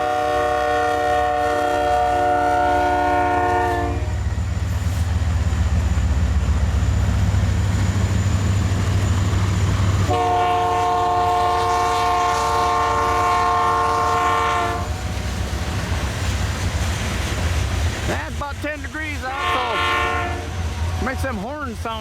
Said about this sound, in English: Makes them horns sound different on them locomotives too.